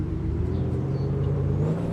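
A Toyota Supra MK4 engine running with a low, steady rumble and slight revving hum, close by and without speech.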